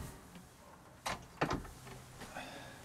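Large sturdy drawers in a motorhome interior being slid open and shut, giving a few quiet knocks and sliding thuds close by, spaced apart over faint room noise.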